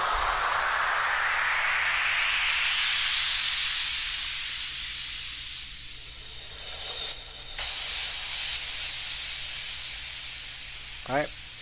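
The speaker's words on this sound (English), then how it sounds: "sweeps, crashes, white noise" A white noise sweep riser effect for an electronic music production: a loud hiss climbs steadily upward for several seconds, then settles into a softer, lingering hiss with a brief chirp near the end.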